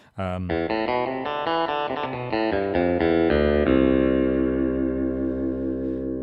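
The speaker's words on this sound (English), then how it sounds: "If we take that sort of famous Fender Strat sound. Look, I've put it through a British combo classic." A Genos 2 keyboard's Fender Strat guitar voice runs through a British combo amp effect: a quick run of clean, bright picked notes, then a full chord left ringing and sustaining, close and loud.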